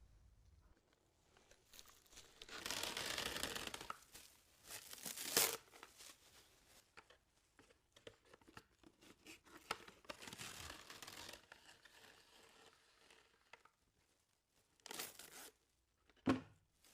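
Cling film, the first turns pulled off and torn from a kitchen roll for covering a burn, gives several bursts of crinkling, tearing plastic, with a sharp snap near the end and quiet gaps between.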